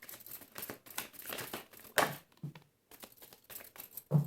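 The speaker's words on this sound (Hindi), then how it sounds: "this is my last shuffle" Tarot cards are shuffled close by in soft papery bursts of riffling and crinkling, with short pauses between flurries and no talking.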